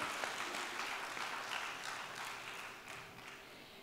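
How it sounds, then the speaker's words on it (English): Scattered applause from a summit audience at an opening speech in Penang, quiet and thinning out over a few seconds. "So please give yourself a big round of applause for that."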